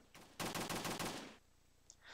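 A burst of rapid automatic M16 fire in a homebrew first-person shooter game on the PS Vita, loud and fast, lasting about a second before dropping to a quiet game background.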